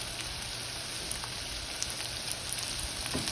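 Sisig frying in an Instant Pot on raised heat, a dense, steady, close sizzle with faint scattered pops throughout and no voices.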